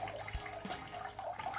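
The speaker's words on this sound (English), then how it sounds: "I went on to test the water pump." Small submersible water pump pushing water through rubber tubing into a homemade bamboo fountain, a soft continuous trickle and splash, faint and close, with no voices.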